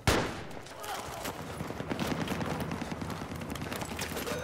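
Rapid automatic gunfire from a soldier's rifle in the Battlefield 3 shooter game, a dense run of repeated bursts with faint voices underneath.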